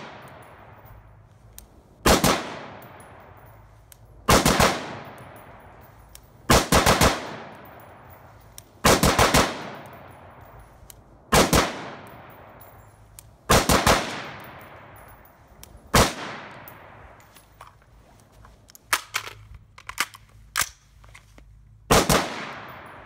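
A pistol fitted with a BattleComp BC 51.0 compensator fires about ten loud, sharp shots, close by, spaced roughly two seconds apart, with a few quicker pairs toward the end and short ringing decays between them.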